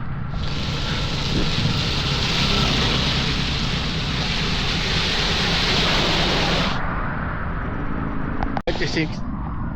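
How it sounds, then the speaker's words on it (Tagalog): Heavy rain pours steadily in a dense, loud hiss during an ultramarathon run, then stops abruptly, followed by a brief sharp knock. "Lakas ng ulan guys."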